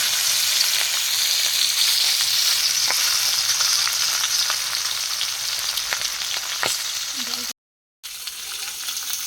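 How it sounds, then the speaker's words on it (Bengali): Singhi, a stinging catfish, fries in well-heated oil with a loud, steady close-up sizzle and scattered spitting crackles, broken by a brief cut to silence near the end. "আমি তেল দিয়ে মাছটিকে প্রথমে ভেজে নেব"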